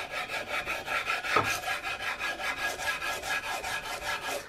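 A wooden gun stock on an Investarms Gemmer Hawken rifle being hand sanded, steady rhythmic back-and-forth rasping strokes about three per second, close and fairly quiet, with no talking.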